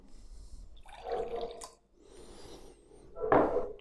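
Olive oil and wine poured for Calabrian crustoli dough, a soft trickling splash in bursts with a quiet gap between, ending in a louder, fuller pour close by.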